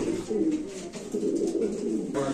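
Pigeons at a bird market coo softly and repeatedly nearby, a low murmuring burble running through the short stretch.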